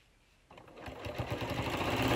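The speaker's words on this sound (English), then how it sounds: "lower the presser foot again and sew it together all the way down that seam" A sewing machine starts up and runs steadily, stitching a quarter-inch seam on a fabric bottle bag, its rapid needle rhythm rising in loudness close by.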